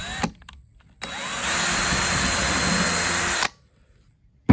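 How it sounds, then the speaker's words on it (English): A small drill bit bores a pilot hole in plywood for a DIY nesting box, one sustained high whine of about two and a half seconds, close and loud, with short bursts of handling noise before it and silence after. "I use a really small drill bit to drill my pilot hole"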